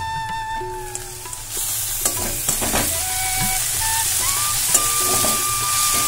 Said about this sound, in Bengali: তো দেখো সব সবজিগুলো ভাজা হয়ে গেছে।